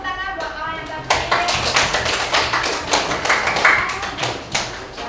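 Classmates clap for a group that has just finished presenting its work in a classroom, a patter of hand claps from a small group starting after about a second and running steadily, with a voice heard briefly at the start.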